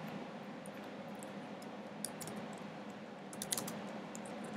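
Quiet computer keyboard typing while entering a MySQL command, with a handful of soft key taps, a few in a quick cluster near the end, over steady room hiss.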